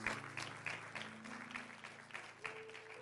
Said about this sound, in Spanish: denle un aplauso a Él por sus principios